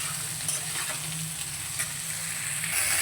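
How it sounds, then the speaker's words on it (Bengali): Sliced ridge gourd and potatoes sizzle steadily in a hot pan as they are stirred together, a continuous close frying hiss with soft scraping and no talk. "ঝিঙেটা দেওয়ার পরে একটু ঝিঙেটাকেও হালকা নেড়ে চেড়ে নেব আলুর সাথে"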